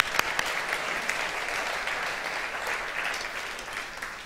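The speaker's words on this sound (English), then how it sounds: "Would you give Tanner a round of applause?" A church congregation applauds steadily for several seconds, dense clapping that holds even and then tapers slightly.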